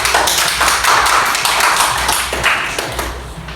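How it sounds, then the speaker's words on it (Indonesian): Classroom applause during a school micro-teaching lesson: a steady, dense patter of many hands clapping close by for a few seconds before slowly thinning out, with no voices over it. "Jadi berikan aplaus dulu untuk kelas kita."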